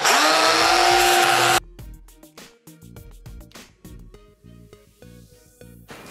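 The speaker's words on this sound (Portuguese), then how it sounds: "a gente usa um disco flap. Esse disco aqui." A flap disc on a power tool sanding a wooden door roars loudly and close for about a second and a half, then cuts off. Scattered knocks and clatter follow.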